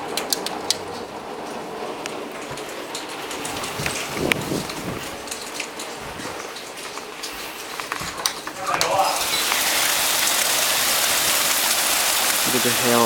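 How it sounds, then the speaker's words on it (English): Hail falling outside on a November day makes a steady, dense pattering that swells louder and fuller in the second half, with a voice talking faintly over it. "it's hailing outside"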